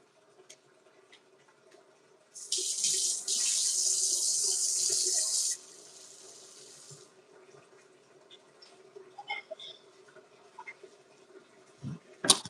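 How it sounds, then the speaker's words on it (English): A tap runs into a sink while someone washes their face: a loud, steady rush of water for about three seconds, then quieter splashing and handling sounds indoors. "So I had to wash my face"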